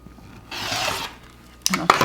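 Fabric for a quilt block is trimmed with a cutter along a ruler, giving a steady rasping cut in the middle and a couple of sharper scrapes and clicks at the end, close and moderately loud, with no talk.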